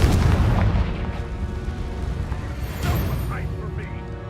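Booming spell blasts from the Confringo fire curse in the Hogwarts Legacy video game, heavy low rumbling bursts that run through the whole moment, with a shouted voice cutting in over the explosions.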